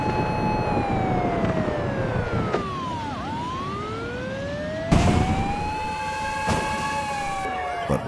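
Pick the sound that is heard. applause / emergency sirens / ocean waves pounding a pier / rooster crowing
emergency sirens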